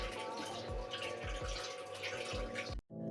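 Omena, small fish, being washed by hand in water, with steady splashing, sloshing and swirling and periodic low thumps, close and fairly loud, ending in a sudden stop.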